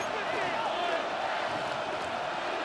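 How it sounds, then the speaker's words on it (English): A stadium crowd roars steadily in the American football game Madden NFL 26 ahead of a big third down, a dense, unbroken wash of cheering heard from a distance. "The crowd getting into it as we come up on a big 3rd down."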